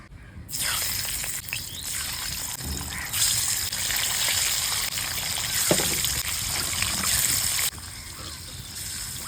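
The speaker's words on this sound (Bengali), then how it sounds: "এবার ডিমগুলো ভেজে নেব।" Eggs frying in hot oil in a home kitchen, a steady broadband sizzle and crackle that starts abruptly and holds fairly loud for several seconds before dropping off near the end, with no talking.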